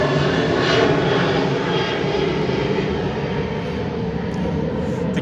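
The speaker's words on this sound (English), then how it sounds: "throughout the day, you're going to hear planes coming over" Propeller airplanes pass low over a beachside state park campground at the end of the Myrtle Beach Airport runway, a loud steady engine drone filling the whole stretch without any talking.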